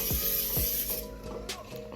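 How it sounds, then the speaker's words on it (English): A can of Pam non-stick cooking spray hisses into a pan in a brief burst, followed by clicks and light rattling as the can is handled. "now in a pan, we're going to add some Pam cooking spray"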